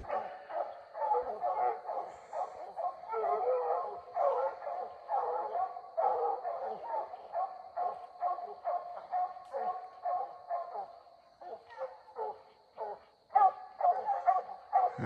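Several hunting hounds bark and bay steadily at an animal up a tree, a dense, continuous chorus of overlapping yelps and bow-wows close by, with a voice mixed in.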